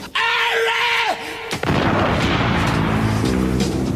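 A wavering sustained tone is cut by a sudden loud boom as someone puts on the ring and vanishes, followed by a dense rumbling roar that fills the rest of the moment.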